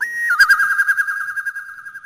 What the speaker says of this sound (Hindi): उसके कानों में कोयल की मधुर आवाज सुनाई दी।